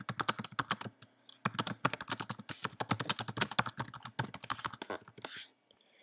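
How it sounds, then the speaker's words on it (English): Rapid typing on a computer keyboard while editing a WordPress page, with quick bursts of crisp key clicks broken by short pauses and a final heavier press at the end. "I type in whatever I want to type in here"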